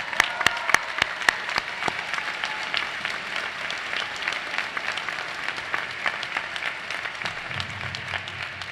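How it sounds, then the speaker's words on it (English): Audience applause at the Quinnipiac University Frank H. Netter MD School of Medicine commencement for a new class of doctors, a few sharp early claps swelling into steady, sustained clapping from a large crowd that carries on throughout. "Once again, a big round of applause."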